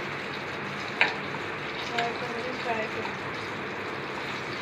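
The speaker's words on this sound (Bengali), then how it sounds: "পাতলা পাতলা বেসন গুলে ওটাকে লাগিয়ে দেখো তেল গরম হয়ে গেছে। এবার ওর মধ্যে ছেড়ে দেওয়া হচ্ছে।" Gram-flour-battered fish pakora fry in hot oil with a continuous bubbling hiss, a sharp clink near the start and faint voices underneath.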